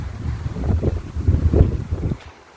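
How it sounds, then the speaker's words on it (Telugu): Wind blows outdoors before rain, gusting against the microphone in low buffeting rumbles that rise and fall over a couple of seconds, close and fairly loud. "గాలి పెడుతుంది వర్షం వస్తుందేమో"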